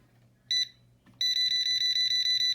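A handheld non-contact AC voltage detector beeps while testing the wiring of a faulty light: a brief tone, a pause, then a steady run of rapid, loud, evenly spaced beeps close to the listener.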